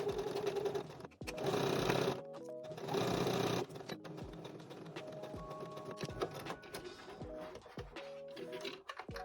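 Domestic sewing machine stitching a fabric wet wipe cover edged with thin bias binding, running in several close bursts of rapid mechanical whirring separated by short pauses, with small clicks of backstitching and handling.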